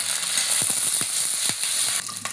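Garlic frying in hot oil with mustard seeds and cumin for a potato bhaji gives a steady, close hiss, sprinkled with small crackles and spatters, that eases off near the end.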